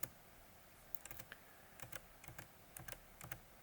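Someone types into a word-processing document on a computer keyboard, producing quiet, irregular clusters of clicks at close range with no talking.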